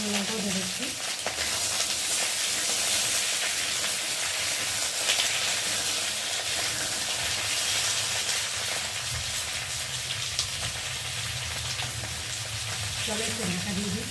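Potatoes fry in a spice tempering with green chilies, giving a loud, continuous close-up sizzle and hiss with light stirring throughout.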